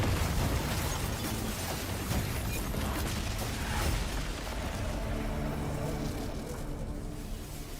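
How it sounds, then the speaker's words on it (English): Airstrike explosions from aerial support in Honkai Star Rail: a dense, sustained barrage of booming blasts and crackling bursts, loud and continuous throughout with no gaps. "do an airstrike?"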